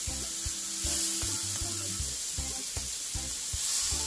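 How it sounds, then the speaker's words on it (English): Shrimp fry in hot oil in a pan, a steady bright sizzle throughout with repeated light scraping and stirring knocks, close and alone without talk. "I'm just gonna let my shrimp fry for 2 to 3 minutes"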